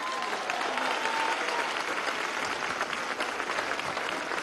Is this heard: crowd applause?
yes